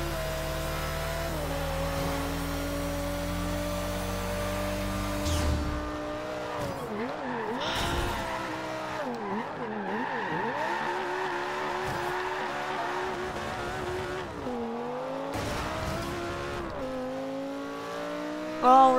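A Maserati Ghibli engine revs hard through a race in a Fast and Furious video game, its steady drone shifting pitch with gear changes and tire squeals, and nitrous boost is used.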